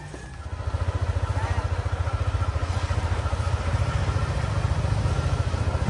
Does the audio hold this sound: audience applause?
no